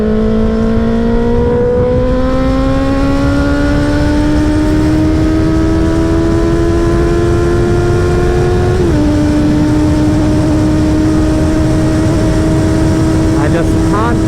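A sport motorcycle on a weekend group ride with CBR650R, R6 and ZX-6R bikes: one loud, close engine holding a high, steadily climbing rev, a brief dip at a gear change, then a steady drone, with heavy wind rush.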